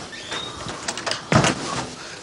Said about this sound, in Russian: Дверь закрой.